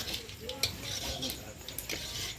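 Cumin seeds crackle in hot oil for a potato, pointed gourd and soya chunk curry, giving a soft, continuous sizzle with light stirring clinks and a few sharp pops throughout.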